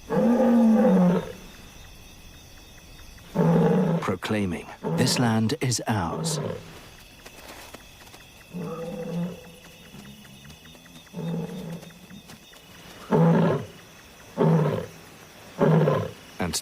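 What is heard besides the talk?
lion roaring at night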